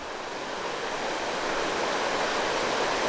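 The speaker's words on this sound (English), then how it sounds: "we made it to the spring here. Comes out of the bottom of a bluff up here." Spring water gushing steadily out from the base of a bluff at Turners Mill Spring in Oregon County, Missouri, a loud, continuous broadband rush with no talk over it.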